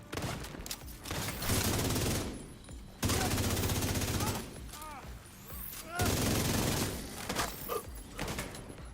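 Rifle gunfire in The Division 2, three loud sustained automatic bursts separated by short pauses, with scattered game sounds between them.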